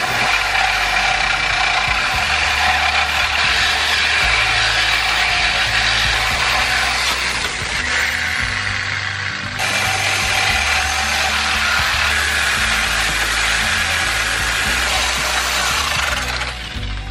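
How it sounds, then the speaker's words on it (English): Reciprocating saw cutting through the rear suspension arm bolts on a Nissan 350Z during a coilover install, a loud continuous buzzing grind running nearly unbroken and close up, with brief changes in pitch as the blade bites. "I'm just gonna lop them both off like that"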